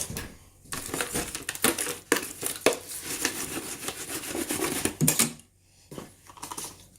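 A dry spice rub is mixed through brisket by hand, giving a steady, close, gritty crunching and rubbing with sharp scrapes, stopping briefly near the end before resuming.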